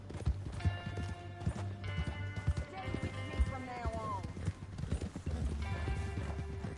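Rhythmic hoofbeats clip-clop at a steady pace beneath a man's speech, with a horse whinnying briefly in the middle, in the video game Red Dead Redemption 2.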